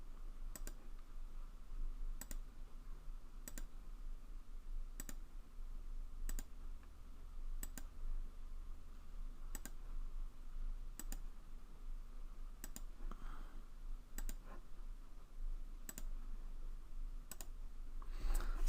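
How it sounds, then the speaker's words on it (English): Computer mouse clicking at a steady pace during motion tracking, about fourteen soft clicks roughly one every second and a quarter over a low constant hum, no voices. "we'll keep clicking on this black dot now."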